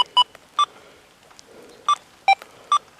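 A Deus 2 metal detector gives out a series of short electronic tones, five or six separate beeps at irregular intervals, loud and clear over a quiet background as the frequency is dialed down.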